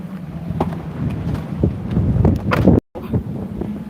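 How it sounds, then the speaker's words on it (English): Strong hurricane wind buffets the microphone outdoors beside a parked car, a loud continuous roar with gusting surges and a brief dropout near the end. "So you're going to hear a whole heap of breeze."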